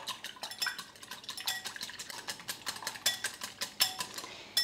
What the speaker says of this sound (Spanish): Ponemos los dos huevos en un recipiente amplio y lo vamos a batir un poco.